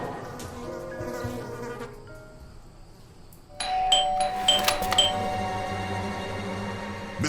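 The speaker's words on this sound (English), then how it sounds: "I thought I should use the doorbell so I wouldn't startle you." A doorbell chimes at a front door: a couple of bright ringing tones stand out clearly against a quiet room, followed by a louder burst of jangling rings that decay slowly.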